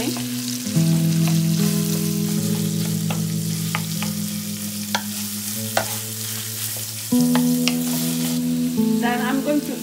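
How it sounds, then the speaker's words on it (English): Lamb mince sizzles and spits steadily in a hot pan over a small to medium gas flame, with occasional stirring scrapes and a low steady hum underneath. "Keep frying."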